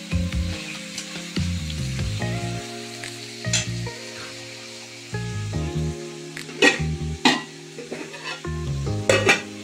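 Onions sizzling as they fry toward brown for Bengali-style chicken curry, a close, continuous crackling sizzle broken by intermittent stirring knocks and scrapes of a spatula in the pan.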